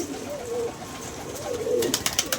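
Pigeons being fed grain coo in soft, low, rolling phrases close by, with a brief flurry of sharper clicks or fluttering toward the end.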